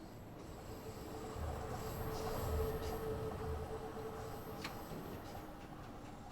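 A London Tube train in Train Sim World 2 rolls along the track, a faint, steady rumble with rhythmic wheel clatter and a thin squeal swelling slightly midway.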